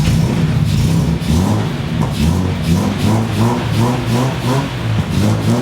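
A Datsun 240Z engine runs loud and close, its steady low rumble pulsing with uneven revs as the car sets off on a test drive, with no talk over it.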